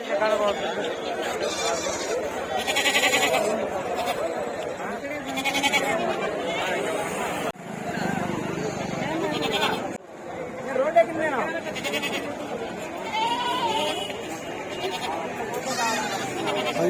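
Goats bleat repeatedly at a crowded outdoor goat market in Kothagudem, their calls rising over a constant murmur of voices and chatter from traders and buyers close by.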